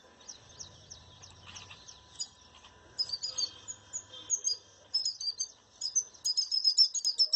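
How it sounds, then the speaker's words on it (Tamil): A small bird calls its flock over to fruit, giving bright, rapid chirps and twittering phrases that repeat and grow busier and louder toward the end, with no talking. "இந்த பூனில் குருவி பழத்தை பார்த்துட்டு எப்படி கூப்பிடுதுன்னு பாருங்க"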